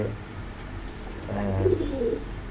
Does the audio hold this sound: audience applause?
no